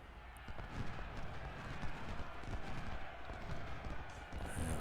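Cavalry horses galloping in the Civil War strategy game Ultimate General Civil War, a soft, steady drumming of many hooves with scattered clip-clop beats, faint and continuous.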